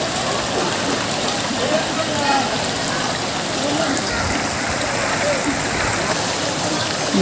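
River water flowing where children bathe under leafy trees, a dense steady rushing wash that stays constant and close throughout.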